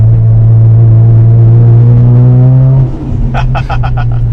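A Mazda RX-7 FD's small rotary engine idles with a steady low drone, then blips its revs a few times in quick, fluttering bursts, loud and close.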